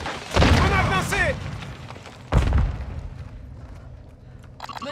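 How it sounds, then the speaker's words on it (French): A stun grenade detonates in Modern Warfare 2 as a single sudden thump with a short rumbling tail, heard after a voice speaks over background game noise. "Je lance une grenade paralysante."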